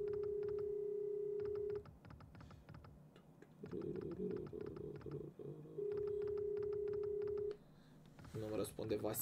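An unanswered phone call to Vasi sends out long, steady ringback tones separated by pauses, with keyboard-like clicking and other noises filling the gaps.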